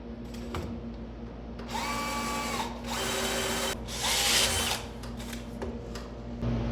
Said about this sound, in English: figure out layout lines on where exactly to drill my holes into these legs